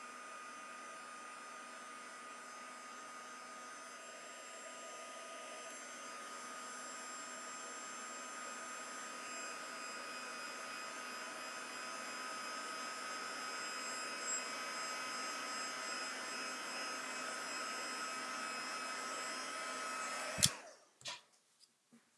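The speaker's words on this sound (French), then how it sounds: "Si vous avez un pistolet à chaleur, eh bien, vous pouvez venir sécher avec. Ça fait du bruit" A heat gun drying paint blows with a steady, loud whooshing hiss for about twenty seconds, then cuts off abruptly with a few clicks and handling knocks.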